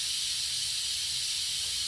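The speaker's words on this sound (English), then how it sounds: "I don't know if you can see the steam coming up, but you can definitely hear it." A steady, loud hiss of steam escaping from a pressure cooker's quick-release valve, opened with a fork, continuous and even throughout with no talk.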